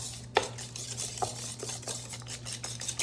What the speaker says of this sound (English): I am just gonna whisk that in there just like that